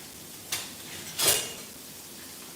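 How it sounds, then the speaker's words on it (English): Food is stirred in a pan with two short scraping sweeps, the second louder and longer, over a quiet steady background with no voices. "Let's give this a stir."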